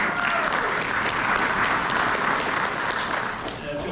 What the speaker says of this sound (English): Let's get a round of applause for Thomas.